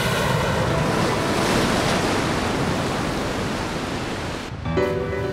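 Tsunami waves from a simulated Nankai Trough earthquake surge in a continuous loud roar of rushing water and wind-like noise, dense and unbroken, with a brief dip near the end.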